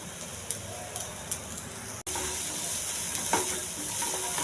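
Urad dal, mustard seeds, chana dal, onion and green chili fry in hot oil for quinoa upma, making a continuous sizzle with occasional sharp crackles and a brief break midway.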